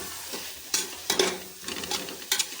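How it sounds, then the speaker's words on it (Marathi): A spatula stirs browned onion with coriander and mint in a hot pan, a soft sizzle broken by several distinct scraping strokes at irregular intervals, close by and without talk. "ते सगळं आपण मिक्स करून घेणार आहोत."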